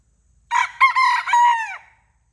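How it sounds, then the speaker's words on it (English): A rooster crows once, loud and close: a single drawn-out, stepped cock-a-doodle-doo lasting about a second and a half in an otherwise quiet yard, with no other sound around it. "Not only do we have chicken visitors"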